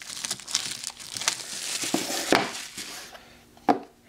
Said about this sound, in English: we'll peel the plastic off.